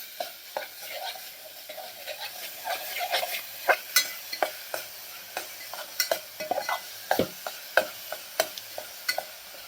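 Masala with a little water roasts in a pot for sambar, a faint sizzle under frequent sharp spoon scrapes and clinks against the metal, fairly close and irregular, without any voices.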